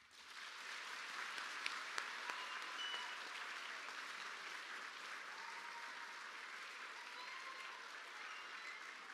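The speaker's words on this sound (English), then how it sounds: "Give them a round of applause." Sustained audience applause fills a graduation ceremony hall, a dense, steady wash of many hands clapping from start to finish with a few sharper claps standing out early.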